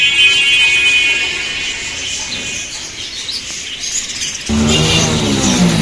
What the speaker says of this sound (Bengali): দোকানে অনেক পাখি দেখতে পাচ্ছেন একগুলা ককাটেল পাখি আছে